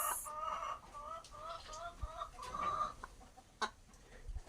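Laying hens on a commercial poultry farm cluck in a steady series of short, repeated calls, with a few louder squawks and brief thuds from the flock, no talking.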